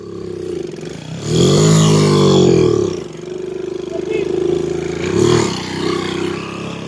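An old motorcycle at a vintage two-wheeler gathering revs hard, its engine rising and falling in two surges while the slipping drive belt whines, close and loud with someone talking over it.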